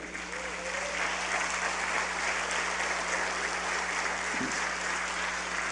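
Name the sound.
congregation applauding in church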